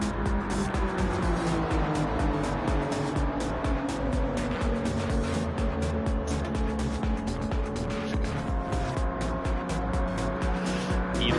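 A race car in Gran Turismo 7 running at the Daytona 500 keeps up a loud, continuous high-revving engine whine with tire squeal, while other cars pass close by.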